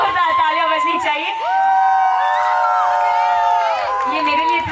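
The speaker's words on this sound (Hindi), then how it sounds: "एक बार जोरदार तालियां बजनी चाहिए।" Loud cheering, whoops and shouting from a crowd at a sangeet celebration, sustained across the moment over a musical backdrop.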